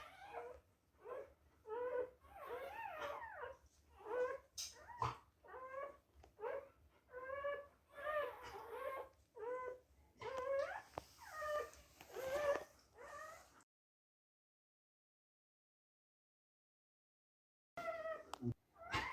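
Whimpers, yips and whines come from a mother dog giving birth naturally. They arrive in close, repeated bursts of varying pitch, then a long silence, then a short final burst.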